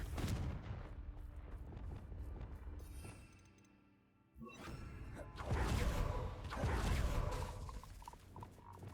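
Confringo fire-blast spells cast in Hogwarts Legacy: roaring, crackling bursts with whooshing tails. Sound dips to near quiet, then a sudden blast returns and rolls into a longer, louder explosive surge.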